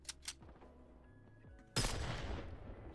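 A gun turret in Worms W.M.D opens fire after a quiet moment, bursting into a loud, sudden barrage of rapid shots that keeps rattling to the end.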